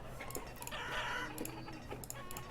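Chickens clucking in the colonial city-building game Banished, a few short clucks and calls over a steady game ambience with no talking.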